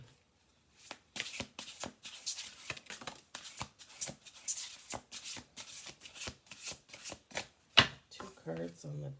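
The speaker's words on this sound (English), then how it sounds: "Alright, two more shuffles." Oracle cards are shuffled by hand in repeated quick riffling bursts, each a crisp rustle separated by short pauses, close and fairly loud. A brief voice comes in at the very end.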